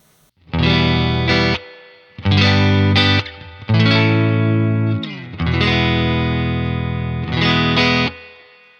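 Electric guitar played through a UAFX Dream '65 Reverb amp pedal set to a Deluxe Reverb cabinet, with loud sustained chords and single notes in several phrases separated by short gaps, each trailing off with reverb.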